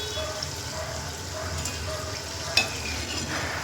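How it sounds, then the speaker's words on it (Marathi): Chakli dough spirals frying in hot oil, a steady continuous sizzle with occasional small pops and a brief clink of a slotted spoon, close and moderately loud with no talking. "चला मी आता सगळ्या चकल्या तळून घेते अशा"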